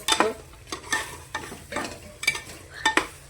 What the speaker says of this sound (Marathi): तळलेले बुंबी टाकते ते हलवून घेते